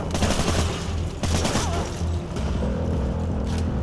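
Rapid fusillade of gunfire in the first-person shooter Call of Duty Modern Warfare 3, dense bursts of shots overlapping throughout a tense alley fight, loud and close, with faint radio chatter beneath.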